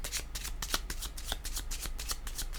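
Playing cards shuffled for a tarot-style card reading, a quick run of crisp riffling flutters with short repeated bursts, close and fairly soft, no talking.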